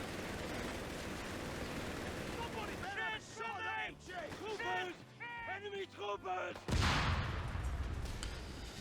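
A heavy grenade blast bursts near the end amid crackling gunfire in a Company of Heroes-style World War II strategy game, Wehrmacht versus US forces, with someone talking over the shots before the boom.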